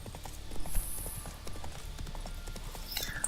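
Horse hooves clip-clop at a steady trot in The Witcher 3, a close, continuous patter of hoof strikes over a low ambient bed, with a brief high tone near the start.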